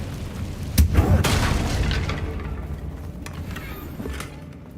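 A Confringo blasting spell detonates in the Hogwarts Legacy video game, a single deep boom with a crackling burst that rolls into a lingering rumble and fades out.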